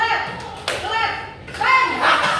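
Two sharp hand claps, spaced about a second apart, land amid a teacher's lively speech in a classroom listening game.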